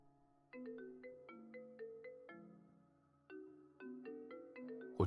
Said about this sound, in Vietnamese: Anh đi nghe điện thoại.